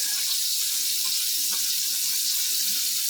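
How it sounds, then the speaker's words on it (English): A faucet runs continuously, producing a steady, even hiss of falling water with no voices. "Now notice I didn't turn the water off."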